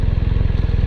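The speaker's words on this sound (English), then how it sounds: "See this nice smooth idle we got here?" A Honda Hondamatic motorcycle engine idles close by, a loud, steady low thumping pulse with even rhythm and no voices.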